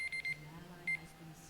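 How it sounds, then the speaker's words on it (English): An alarm clock goes off indoors in two short bursts of high, repeating electronic beeps. A steady low hum runs underneath and nobody speaks. "I have an alarm going off."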